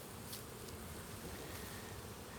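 Honeybees at forest beehives, before the chestnut trees bloom, make a steady, faint buzzing hum throughout, with no voices.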